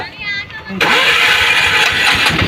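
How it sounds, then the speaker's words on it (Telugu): A small auto rickshaw engine cranks and catches, settling into a buzzy, rattling idle close by, with people speaking over it. "ఇంజిన్ సౌండ్ కూడా మంచిగానే అనిపించింది నాకైతే"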